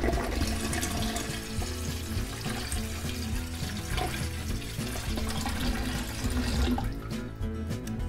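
Water pours and gushes steadily into a large vase, a loud continuous splashing rush lasting throughout and close to the microphone, with no talking.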